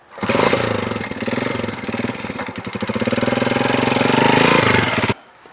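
Motorcycle in a Punjabi village comedy skit kicks into life and revs loudly nearby, its throbbing engine pulsing unevenly for about five seconds before cutting off abruptly as it rides away.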